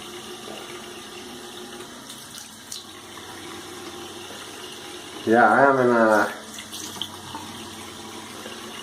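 Cold tap water runs softly in the background at a bathroom sink during a wet shave, a faint steady flow while someone talks briefly over it.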